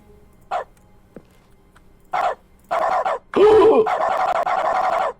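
Dog barks and yelps in dog mode of The Stanley Parable: a few short separate yaps, then a run of loud, continuous barking and whining near the end.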